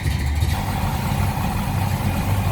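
A 1966 Ford Galaxie 500 two-door hardtop with a 7-litre 428 V8 idles smoothly and steadily, a deep even rumble heard up close with the hood open, no talking.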